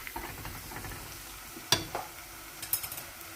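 Cashew nuts fry in ghee in a pan with a soft, steady sizzle, broken by a few sharp scraping clicks as they are stirred.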